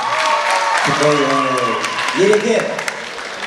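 A concert audience in Aktau claps in a broad, steady wash of applause while a voice calls out over it.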